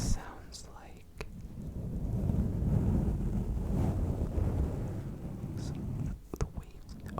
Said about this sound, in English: Just kind of moving the towel around a little bit, I think, is a very good sound.